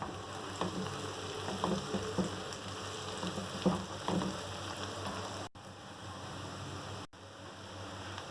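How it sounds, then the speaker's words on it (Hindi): Onions fry in a pan over a medium flame, a soft, steady crackling sizzle with occasional louder spits, close and without talk; the sound briefly cuts out twice near the end. "अब हम मीडियम फ्लेम पर प्याज को लाइट गोल्डन होने तक फ्राई करेंगे।"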